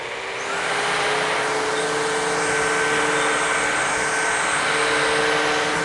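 A Shark Rocket Pro cordless stick vacuum starts up and runs nearby: a quick rise into a loud, steady motor whine with a constant airy rush and a faint higher tone, alone and without talk.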